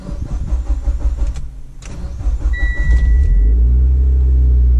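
A Mitsubishi Evo X engine cranks over twice and then catches, rising into a loud, steady idle rumble close by.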